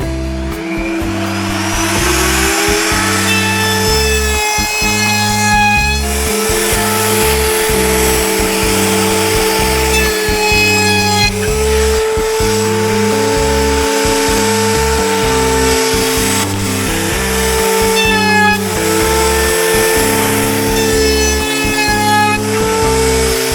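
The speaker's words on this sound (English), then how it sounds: "Routering, it's just taking and breaking the edge all the way around that piece of plywood" A router breaking the edge of a plywood piece for sawhorses, a loud continuous high-pitched motor whine with cutting noise that rises and dips steadily throughout, close by and with no talk.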